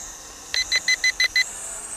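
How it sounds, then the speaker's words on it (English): Six short, evenly spaced high-pitched electronic beeps from a folding toy drone's controller in quick succession, clear and close, over a faint steady background hum. "wait till it beeps 3 times"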